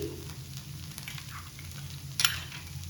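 Ghavan rice pancakes cook without oil on a hot iron griddle, giving a soft steady sizzle close by with light stirring clicks and one brief sharp crackle near the end.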